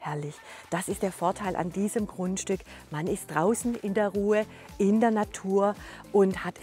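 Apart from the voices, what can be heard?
No everyday noises stand out.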